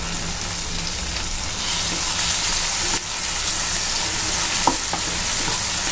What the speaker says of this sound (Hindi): टोमेटो जब तक मशी नहीं हो जाता तब तक हम उसे ऐसे ही चलाते रहेंगे